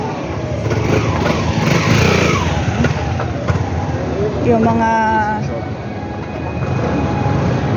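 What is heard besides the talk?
motorcycles and vehicles passing in parking area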